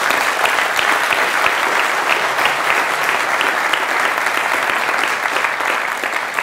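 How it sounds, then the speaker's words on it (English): A conference audience gives a sustained round of applause for Mark Burgess, loud and even clapping from a large crowd throughout. "can we give Mark Burgess a round of applause?"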